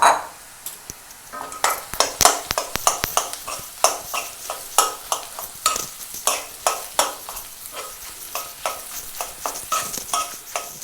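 A spoon scrapes and stirs mashed potato into fried onions in a pan for a chicken cutlet mix, giving steady, quick clicking strokes over a soft, constant sizzle.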